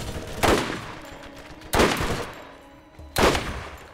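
Three loud, sharp gunshot bursts in a shooter video game, spaced roughly a second and a half apart, each with a short decaying tail and faint background hum between.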